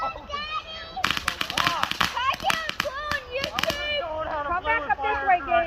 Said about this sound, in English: Why did you walk in front of the fireworks?